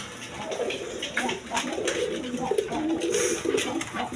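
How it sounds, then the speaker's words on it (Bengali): Rajgolla coloured pigeons coo in a loft, soft repeated throaty warbles overlapping from several birds nearby, with faint background noise. "বিভিন্ন বিটার কবুতর আছে, চুইনা চুইটাল আছে, গররা আছে"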